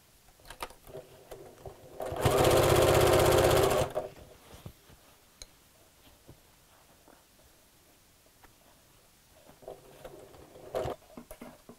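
A sewing machine runs a short, steady burst of stitching as bias binding goes around a dust cover, starting and stopping abruptly, with quieter handling sounds and faint shuffling before and after.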